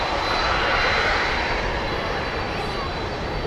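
A Boeing 767 jet at DFW Airport at night, its engines giving a loud, steady, close roar with a broad rushing hiss that holds throughout and eases slightly toward the end.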